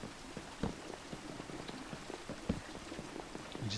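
Minecraft rain in a modded GregTech pack: a steady patter of scattered drops and light splashes, fairly faint, heard alone with no talking.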